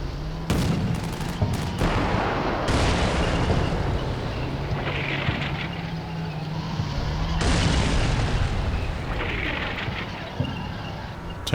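Gunfire and artillery from the war game Combat Mission Black Sea boom and crack at close range. Bursts and heavy blasts overlap one another over a constant rumbling battlefield din.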